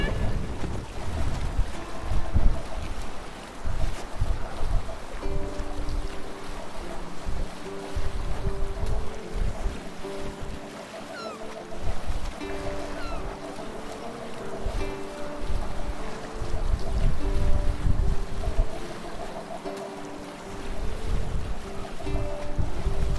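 A Viking sailing ship cuts through the open sea in Assassin's Creed Valhalla, with a loud, constant wash of wind and waves and a soft melodic game score beneath.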